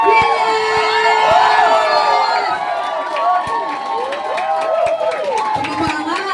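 A large, loud crowd cheers and shouts without pause at a Hall of Fame tribute. Excited voices, whoops and scattered sharp claps overlap throughout the whole stretch.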